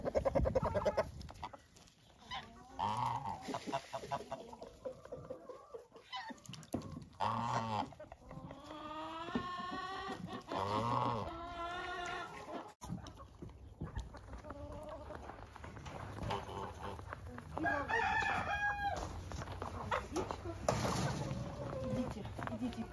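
Laying hens in a winter coop cluck and squawk close by, with a rooster's crow and other fowl calls mixed in, while someone talks on and off over the birds.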